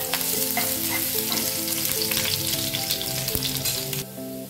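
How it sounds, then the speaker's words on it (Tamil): Steady, loud sizzling of finely chopped garlic frying in hot oil for chilli chicken, with music playing over it and the sizzle dropping off near the end. "அதை பூண்டு போடுறோம்."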